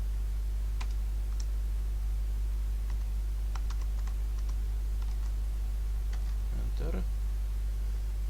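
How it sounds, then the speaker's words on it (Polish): Keys tapped on a computer keyboard while a web address is typed, sparse light clicks in small bursts over a loud constant hum, ending with a louder click cluster. "W tym celu klikamy pasek adresu i wpisujemy adres strony"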